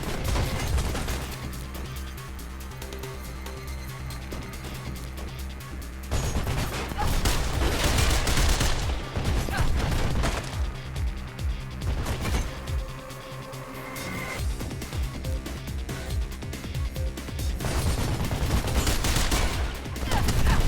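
Enemy gunfire in Mirror's Edge rattles in dense automatic bursts and volleys, loud and sustained across twenty seconds with short lulls between barrages, and a voice cuts in briefly.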